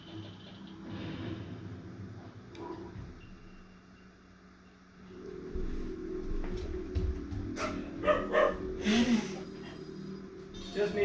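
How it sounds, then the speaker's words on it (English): A pet dog named Shinzi barks and yips indoors in short bursts over several seconds, mixed with rustling, while someone talks. "My good dog. She's trying to warn us."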